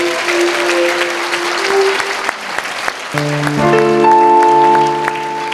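Church congregation at a Sunday service clapping in thanks to the Lord, a dense burst of hand claps mixed with sustained keyboard or organ tones that swell in the second half, no voices on top.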